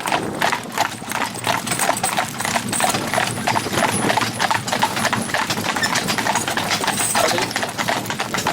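A horse's hooves clop along a road at a steady walking rhythm, close and clear, the footfalls continuing throughout with no pauses.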